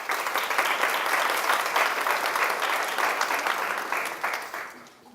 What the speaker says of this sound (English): So a nice round of applause for our 2 judges.